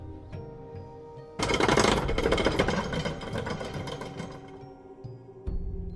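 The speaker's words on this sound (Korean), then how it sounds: "무슨 쇠사슬 끄는 소리가 들려왔고, 그 소리는 정적한 산의 새벽 공기를 충분히 울릴 정도로 꽤 큰 소리였다" A loud, rattling metallic clatter of a heavy chain being dragged bursts in suddenly and grinds on for several seconds before cutting off, with a low hum before and after.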